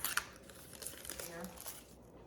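Hardened bird suet being peeled off its wrapping, giving close crinkling and tearing rustles in uneven bursts, with a voice talking quietly alongside.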